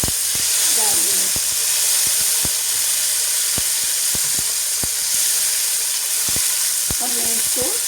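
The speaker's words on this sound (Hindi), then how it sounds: "सबसे पहले मैंने इसके अंदर ऑयल गरम किया आधा कप और इसमें 2 अदद टमाटर डाल दिए" Two tomatoes fry in half a cup of hot oil, a loud, continuous sizzle and hiss with sharp clicks and taps of a utensil against the pan recurring throughout, heard up close.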